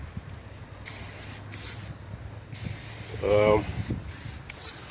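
Zep Foaming Citrus Degreaser sprayed onto an engine, with hissing aerosol bursts close by, interrupted by brief pauses, alongside a word spoken.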